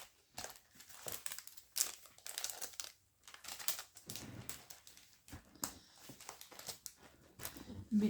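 Loose papers rustle and crinkle as they are rummaged through in a box of craft supplies for an Advent calendar, a busy irregular crackling that carries on throughout while someone talks over it.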